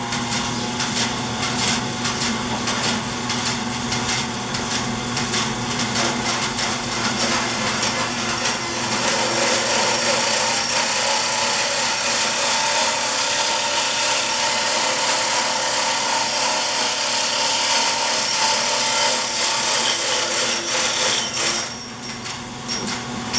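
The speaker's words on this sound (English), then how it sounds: "I'm going to do this with a bandsaw" A bandsaw cuts the spigot off a turned wooden mug, with a steady loud whining buzz running without a break and dropping briefly near the end.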